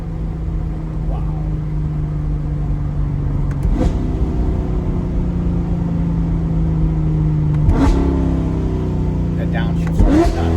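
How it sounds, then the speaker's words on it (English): A tuned C8 Corvette with an unlocked ECM revs and downshifts, its engine drone loud and close with rising blips at each shift. People talk over the engine noise. "That downshift's nuts. Listen to that."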